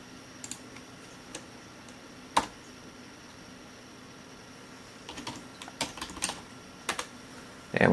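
Light clicking keystrokes on a computer keyboard entering a command, a few isolated taps early on and then a quicker cluster of presses near the end, close and fairly quiet against faint background hiss.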